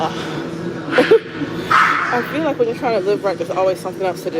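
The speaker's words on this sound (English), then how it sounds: "Yes, that is a dog barking in the show." A dog barks and whimpers in the background of a TV show, a few short yips and barks mixed under a woman's close, continuous talking.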